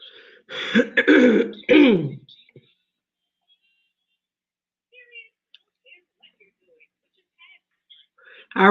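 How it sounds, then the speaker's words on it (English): A man coughs and clears his throat in a few harsh, close bursts, then goes quiet apart from faint small clicks and rustles. "If I can stop coughing, I'll be all right today."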